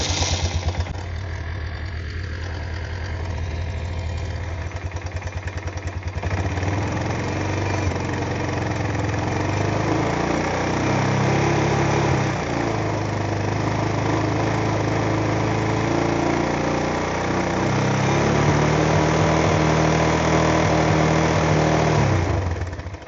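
A Kawasaki Bayou 220 ATV engine cranks briefly, then catches and settles into a steady, loud putter of idling that carries on alone without talk.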